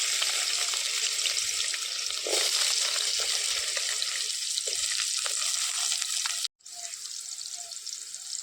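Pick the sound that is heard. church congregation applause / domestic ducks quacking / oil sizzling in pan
oil sizzling in pan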